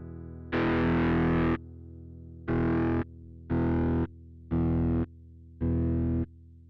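Five bursts of heavily distorted, effected guitar tone from a GTC Revpad touchpad effects unit, one long followed by four shorter evenly spaced pulses, with silence between them.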